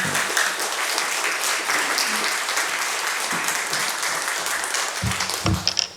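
Warm, steady applause from a church congregation welcoming a pastor, director of the Holiness Church general assembly's church development institute, to the front, continuing evenly and fading near the end.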